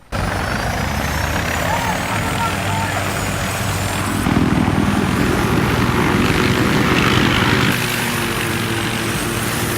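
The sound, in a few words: helicopter in video game Battlefield 3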